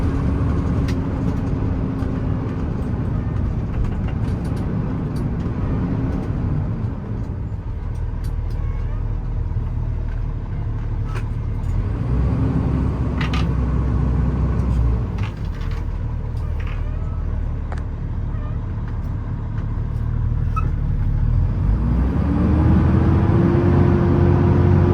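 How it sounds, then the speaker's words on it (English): A 2020 Kenworth T370 service truck with a 14-foot IMT mechanics body and crane accelerates steadily, its diesel drone rising in pitch, dropping at each gear change and climbing again, loud and continuous without speech. "Plenty of power, shifts through the gears nicely."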